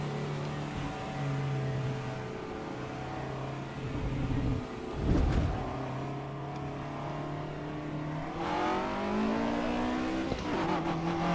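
Race cars in Assetto Corsa EVO whine under sustained engine drone, with gear shifts and a revving surge, pitch sweeping up and down as they accelerate; loud, continuous and without speech.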